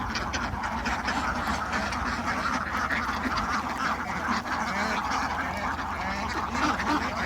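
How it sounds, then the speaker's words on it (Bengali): A flock of about 600 farm ducks quacks continuously, a dense overlapping chorus of many birds close and loud with a steady background din, no speech audible. "এখানে 600 আছে হাঁস"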